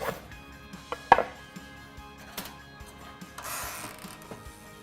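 A knife slices through bread with a few crisp chopping knocks against the board, then a short scraping cut near the end; close, fairly quiet, no voices.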